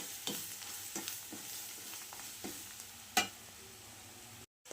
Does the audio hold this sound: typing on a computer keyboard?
no